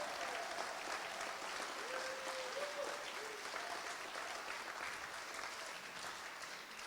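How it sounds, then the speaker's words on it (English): An audience at a charity gala claps steadily in a dense, even wash of applause that holds for several seconds and eases slightly toward the end, with no talk over it. "let's give Chris a big round of applause"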